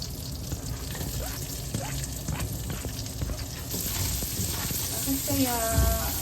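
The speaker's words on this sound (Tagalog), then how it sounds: "Sa same pan na ginamit natin is magigisa tayo ng bawang sibuyas." Garlic and onion sauté in a non-stick pan that was just used to fry tofu, giving a steady close sizzle with occasional utensil clinks and a brief scrape near the end.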